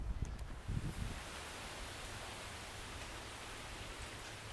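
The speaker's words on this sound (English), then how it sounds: "There's plenty of wind to keep them moving." Wind moves through tall trees in a suburban yard, a soft, even wash of rustling leaves at a distance, with a few louder low gusts early on, then a steady faint hiss with no voices.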